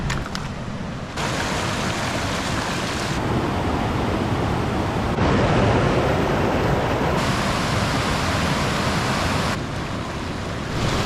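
A steady, broadband roar of falling water from a small waterfall in the 4000 Islands area of Laos fills the scene, dense and continuous with slight shifts in intensity, no voices.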